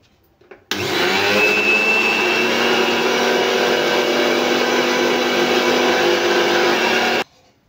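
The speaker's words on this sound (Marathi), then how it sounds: "चला तर आता पूर्ण मसाला मी वाटून घेणार आहे।" An electric mixer grinder runs at full speed while grinding homemade black masala spice blend in a kitchen, starting abruptly with a loud, steady high-pitched whine for about six seconds and then cutting off.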